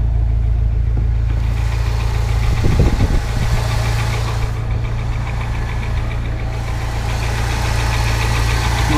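International Harvester Super Scout II engine idling, a steady low rumble with a smooth even pulse and a slight whining hint from the water pump, heard close under the open hood, alone with no talk.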